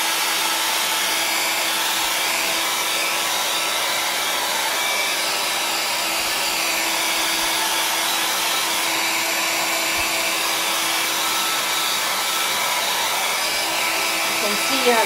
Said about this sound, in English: I'm just gonna use the hairdryer to get it dry.